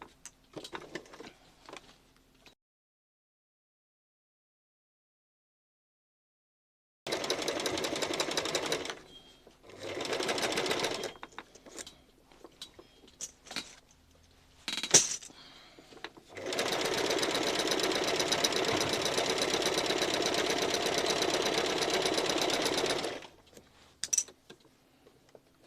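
A sewing machine stitches fabric for a wheat bag cover in long, steady runs of rapid mechanical whirring and clatter, broken by pauses and quiet handling of the cloth.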